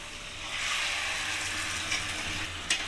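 Chicken pieces fry with well-cooked spice paste in a pan for a spinach chicken dish, giving a steady, moderately loud sizzle with occasional stirring scrapes and a short clack near the end.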